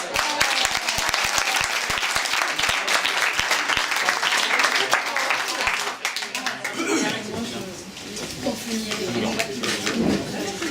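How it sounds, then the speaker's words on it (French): Audience applause at an improv comedy show, a loud, sustained burst of many hands clapping that holds steady, then thins slightly toward the end with some crowd noise. "On peut refaire un tonnerre d'applaudissements parce que c'est très dur."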